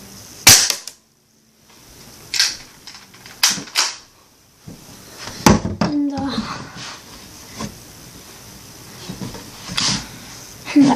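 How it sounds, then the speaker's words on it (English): A BB gun fired at a cardboard box gives repeated sharp snapping cracks at irregular intervals, close and loud, with some clattering in between. "I shot my BB gun at the box"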